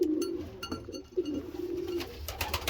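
A house pigeon kept indoors coos softly and close by, with low rolling calls repeating over a faint background and light rustling.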